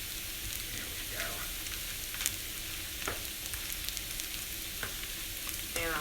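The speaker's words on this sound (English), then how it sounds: "give it a little sizzle factor" Steady sizzling and crackling of food frying in a pan, continuous and close, with a few brief clinks and scrapes.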